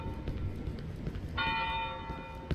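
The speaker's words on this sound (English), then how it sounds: "Why is the bell toll?" A church bell tolls once in the horror game Cry of Fear, a ringing metallic strike that sustains and slowly fades. It sits over a dark, rumbling ambient drone.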